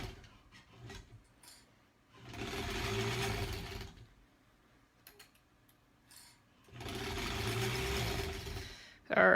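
A sewing machine stitching a granny squares quilt runs in two steady bursts of about two seconds each, a moderate mechanical whir with quiet pauses between.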